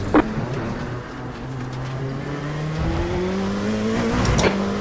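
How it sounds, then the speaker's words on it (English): IMSA race cars on the track at the Canadian round come up in a group, their engines droning and rising steadily in pitch as they close in, with a thin tire squeal at the start and again near the end. "Group of faster cars approaching."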